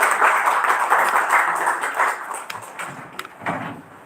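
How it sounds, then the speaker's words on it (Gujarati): An audience at a Karmakand workshop session claps to welcome a guest, a steady patter of many hands that stays loud and even, then thins and fades toward the end. "તાળીઓથી આપણે સૌ વધાવીશું"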